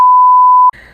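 A steady, loud single censor beep tone from an edited Minecraft video runs unbroken for most of a second, then cuts off into a brief burst of faint muffled sound.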